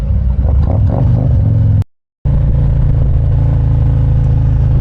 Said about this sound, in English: It sounds freaking awesome with that full Akrapovic exhaust system.